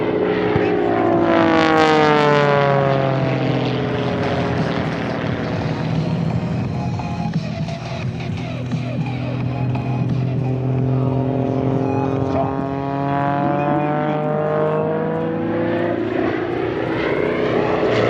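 Pitts Model 12 aerobatic propeller airplane performing at the Seoul ADEX 2017 airshow, a loud droning engine whose pitch swoops up and down as it maneuvers overhead, continuous and dominant with sweeping Doppler shifts.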